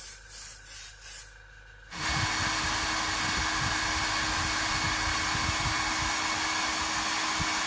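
An air compressor feeding an airbrush for base coats on a Murray cod lure, with a few short bursts and a quiet pause before a steady, loud hiss and hum start and run on unbroken.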